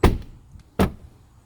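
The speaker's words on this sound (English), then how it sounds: "can you close the doors, honey?" Two solid thuds about a second apart as the doors of a 2021 Nissan Rogue Platinum are shut nearby, with a short quiet gap between.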